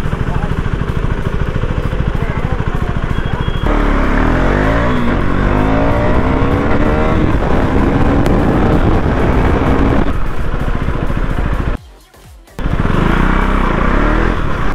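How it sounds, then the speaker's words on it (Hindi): A 2024 KTM 390 motorcycle engine revs hard and repeatedly up close, with rising and falling pitch, heavy wind buffeting and a brief drop-out near the end. "बहुत रेव कर रहा हूँ मैं बाइक"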